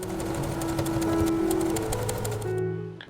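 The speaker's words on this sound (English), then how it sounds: "we are going to make a stitch over here. A simple straight stitch over here." A sewing machine runs a simple straight stitch through denim for a hobo bag, loud and close with a fast, even mechanical chatter and a steady motor hum that stops abruptly near the end.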